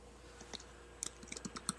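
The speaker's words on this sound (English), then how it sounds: "we can hear you typing" Typing on a computer keyboard during a podcast recording, soft irregular clicks and taps of keys picked up faintly by a nearby microphone, with no speech over them.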